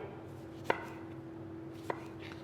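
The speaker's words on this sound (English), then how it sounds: "And cut them into cubes too." Two distinct knife chops on a cutting board while a tomato is being cut into cubes in a kitchen, sharp separate knocks over a quiet steady background hum.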